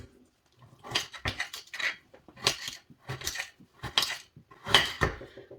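A knife chops a half-frozen lemon repeatedly against a board in uneven bursts, crisp and close, with short pauses between groups of cuts; no talking.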